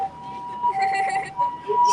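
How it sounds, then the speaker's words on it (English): Ambulance siren passes along a city street during a walk among Midosuji illuminations in Osaka, a loud steady wail holding one pitch with a shorter tone in between, while people talk nearby. "ちょっと今救急車が。"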